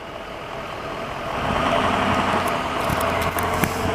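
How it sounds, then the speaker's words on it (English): An old Ford Econoline van passes on Everett Street in Montreal's Villeray borough, a motor rumble swelling as it draws near over steady street noise. "That's a good old Econoline you hear there."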